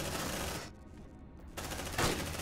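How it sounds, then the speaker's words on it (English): Heavy, dense gunfire bursts from the video game Aliens: Dark Descent, with a shotgun blasting a wall, loud blasts before and after a brief lull. "did we just like shotgun the wall?"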